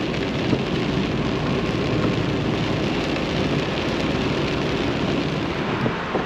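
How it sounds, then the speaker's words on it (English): Heavy rain falls steadily and relentlessly, a dense, even hiss of drops that stays loud and constant from start to finish, with no voices. "So the rain's been pretty relentless."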